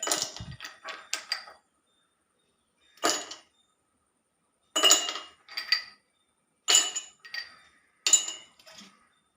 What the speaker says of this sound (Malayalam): ഐസ് ക്യൂബ് ഇട്ട് കൊടുക്കാം